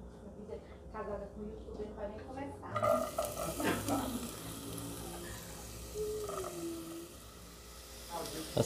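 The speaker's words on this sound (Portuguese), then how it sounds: "Vou refogar a cebola junto com o alho" Onion and garlic sautéing in olive oil in a pan, a light sizzle with stirring scrapes and clinks of a utensil, close by, with a voice speaking over parts of it.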